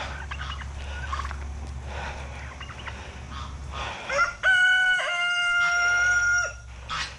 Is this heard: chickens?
yes